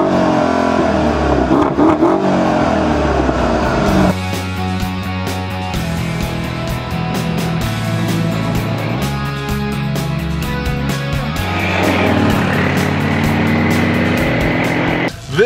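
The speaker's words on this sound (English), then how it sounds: "this car has one of the sexiest, most manly exhaust notes out of any car we've tested up here" A 2013 Mercedes-Benz SL63 AMG Roadster with a deep, rumbling exhaust note, its engine revving repeatedly in loud, close bursts that rise and fall with throttle blips.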